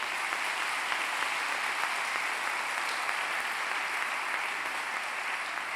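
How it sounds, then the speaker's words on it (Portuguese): Church congregation applauding during an Easter sermon, a steady dense wash of clapping from a large room, even and sustained throughout without talk over it. "Aplauda o Senhor Jesus por isso."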